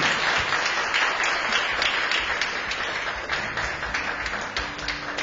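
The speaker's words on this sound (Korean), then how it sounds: "다시 한번 큰 박수 부탁드립니다" Sustained applause from an audience at the opening ceremony of a Chungbuk citizens' college course, steady and fairly loud clapping that tapers slightly toward the end.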